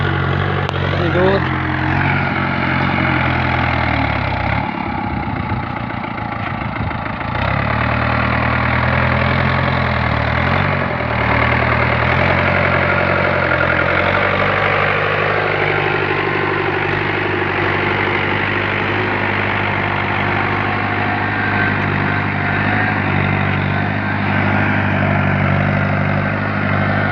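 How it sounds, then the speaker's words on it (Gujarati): A Mahindra Sarpanch 475 DI tractor plows a field, its diesel engine droning loud and continuous from close range with a deep steady rumble that barely changes across the whole stretch. "ટ્રેક્ટર કેવું ખેડે છે"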